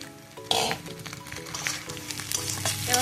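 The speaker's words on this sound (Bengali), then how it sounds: "পেঁয়াজ রসুনটা লাল লাল করে ভাজা হয়ে গেছে, এবার আমি দিয়ে দেবো মাছের মাথা" Fish head pieces, pre-fried, added to a pan of reddened onion and garlic, sizzling steadily with a sharp burst as they go in and intermittent stirring scrapes, close and fairly loud.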